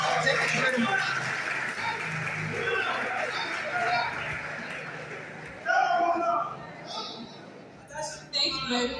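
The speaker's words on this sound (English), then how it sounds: "A big round of applause, please." Audience applause at a pharmaceutical sciences faculty seminar, steady dense clapping that fills most of the stretch, then thins out into scattered claps near the end, with murmured crowd noise underneath.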